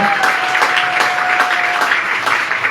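A church congregation applauding, a sustained, steady wash of clapping from many hands in a reverberant hall, with a faint held tone beneath and no speech.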